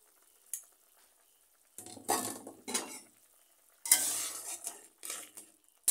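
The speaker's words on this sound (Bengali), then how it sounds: "আমার আলু তরকারি উতলাচ্ছে" Potato curry in a pot on a gas stove is stirred in short bursts of scraping and bubbling sizzle, several separate strokes with quiet pauses between them, close and moderately loud.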